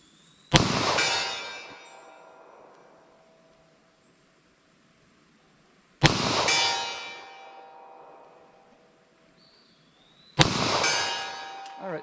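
Three loud, sharp pistol shots from a .40 S&W firing Winchester white box 180-grain rounds at 75 yards on an outdoor range, each crack followed by a long ringing decay, spaced several seconds apart.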